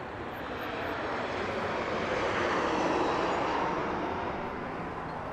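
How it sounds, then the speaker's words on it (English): A Southwest Airlines jet roars past at Harry Reid International Airport in Las Vegas, a broad, steady engine rush that swells and fades slightly over several seconds with no speech. "we have another Southwest Airlines plane right here"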